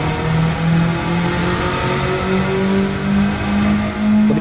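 Honda Civic Type R FK2 launching hard and accelerating, its engine climbing loudly through the revs with brief dips at gear changes, close and sustained.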